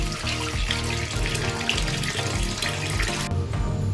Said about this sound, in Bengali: আপনারা মাংসটাকে ভালো করে ধুতে থাকবেন